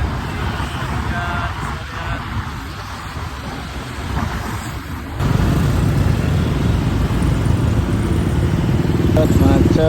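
Cars and motorcycles crawl through a traffic jam in Palembang, a continuous dense engine drone that grows louder and nearer about halfway through.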